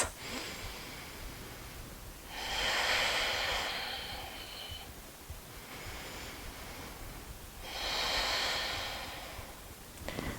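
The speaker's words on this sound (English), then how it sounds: "2 more deep breaths." Slow, deep breaths during a gentle yoga flow, two long airy exhales a few seconds apart, close and soft against a quiet hiss.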